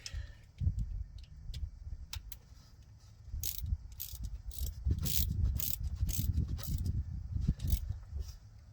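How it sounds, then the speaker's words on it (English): Small ratchet clicking steadily while loosening or tightening bolts on a 2011 Chrysler 300 Hemi water pump, close up, with a low hum of the garage underneath. "I'm also using a very teeny ratchet"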